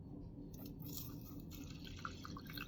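Lentils rinsed with water in a kitchen, giving soft, quiet drips and light sloshing that run steadily throughout with no talking.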